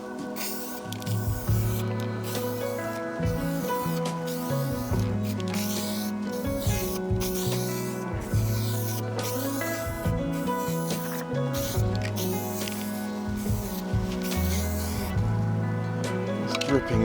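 An aerosol spray can applies rust protection to the metal underside of a Porsche 928 outdoors in the wind. Repeated close bursts of hissing spray start and stop over a dense, harmonic background.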